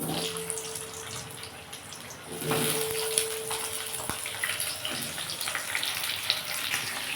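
Potatoes hiss and sizzle in a pan of hot oil for a fish curry, a soft, continuous frying noise heard close with a brief swell partway through and no one speaking.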